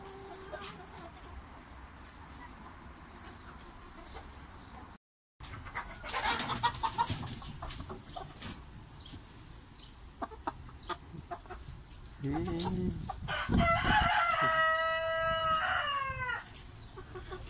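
In a backyard poultry pen, hens cluck softly and scattered while a rooster crows loudly near the end, with occasional faint rustling and low background noise throughout.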